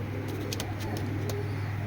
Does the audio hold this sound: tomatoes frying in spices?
no